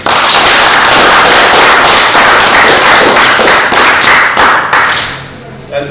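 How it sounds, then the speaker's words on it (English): A church congregation claps hands loudly in praise, a dense, forceful burst of close clapping that holds steady for several seconds before thinning out and fading near the end. "Give Almighty our hand clap praise."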